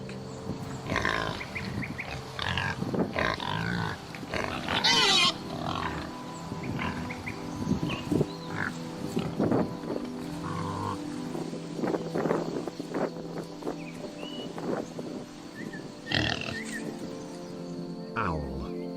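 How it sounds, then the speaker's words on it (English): Pig grunting and snorting in a run of rough, irregular calls, some loud and close, with gaps between bursts and a snatch of speech partway through. "A pig."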